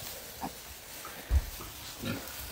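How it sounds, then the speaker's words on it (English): Pigs squabbling indoors in a kitchen, with a few short grunts and one brief low thump spaced across a quiet background. "pigs do squabble as adults too, which is what's going on in our kitchen"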